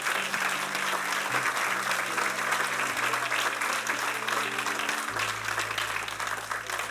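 A church congregation claps in praise, dense and sustained, while a sustained organ or keyboard chord changes pitch beneath it.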